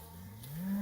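Cattle grazing on a planned-grazing pasture let out a single low moo that rises and swells louder toward the end, heard clearly over quiet outdoor background.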